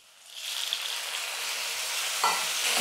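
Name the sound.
sautéing onions and tomatoes in pan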